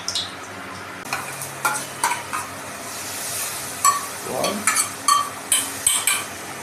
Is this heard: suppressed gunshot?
no